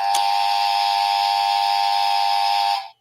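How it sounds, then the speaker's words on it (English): A cheap Dollar Tree timer buzzer goes off in one loud, steady electronic tone lasting nearly three seconds before cutting out abruptly, close and with no talking over it. "And y'all got a little buzzer."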